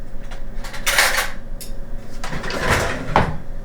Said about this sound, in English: Now, let me get a spoon for you, Harry.